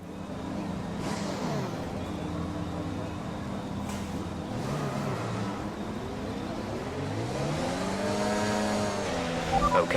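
Formula 1 race cars in the F1 2021 racing game rev their engines on the track, with high whining engine pitches that sweep up and down, passing whooshes and growing loudness toward the end.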